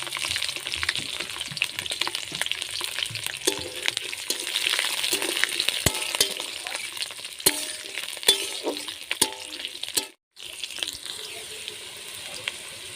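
Capsicum sizzles steadily in a hot pan while cooking chilli paneer, a continuous bright frying hiss with occasional clinks and stirring scrapes, briefly cutting out near the end before the sizzle resumes.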